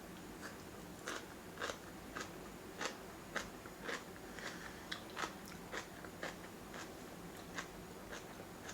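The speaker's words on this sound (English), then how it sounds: "Let me take a bite of this kimchi first." Crunchy spicy kimchi is bitten and chewed close to the mic, a steady series of sharp, wet crunches about every half second over a quiet background, with no voices.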